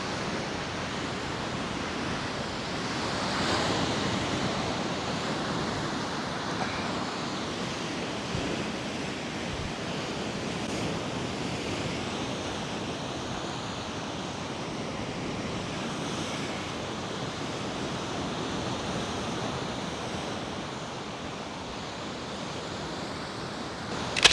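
Ocean surf rolls continuously onto a beach strewn with washed-up debris, a broad steady wash of waves with wind buffeting the microphone, moderately loud and unbroken, with no voices.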